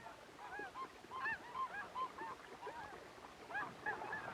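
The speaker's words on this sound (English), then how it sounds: "A flock of snow geese has arrived" A flock of snow geese arriving at Arctic nesting grounds honks repeatedly, many overlapping calls of varying distance over a soft breezy background, with no voices.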